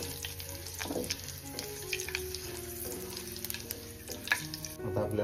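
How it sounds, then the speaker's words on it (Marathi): Whole spices and curry leaves crackle and sizzle in hot oil in a home kitchen pan, a steady frying hiss with bursts of spitting pops throughout, close and fairly loud, no voices. "आता आपण खडे मसाले टाकून घेऊ. त्याच्यानंतर लगेच आपण कढीपत्ता पण टाकून घेऊ."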